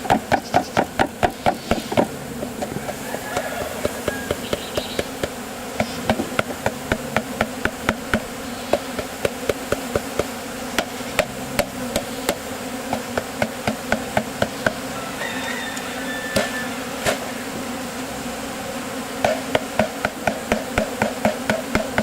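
A dense, steady buzz of many honeybees hums throughout as a package of bees is installed in a hive, with repeated sharp tapping knocks scattered over it, close by and loud.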